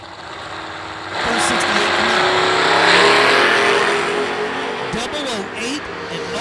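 IHRA S10 class drag racing cars launch and roar away down the strip, a loud sustained engine blast swelling over a few seconds then easing as they recede, with a track announcer talking over the noise.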